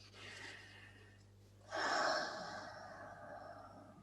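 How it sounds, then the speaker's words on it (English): A single deep breath, a sharp inhale followed by a long, audible exhale, close and fairly quiet, with no talking. "so take another breath"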